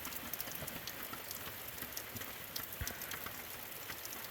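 Steady rain from a passing thunderstorm falls onto outdoor surfaces, a continuous close hiss with scattered drips and patters and no talk.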